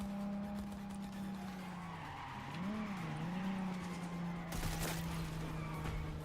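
A car in the Cyberpunk video game drives with a steady engine drone, its pitch wavering as the tires squeal through a skid in the middle, followed by a sharp burst of noise near the end.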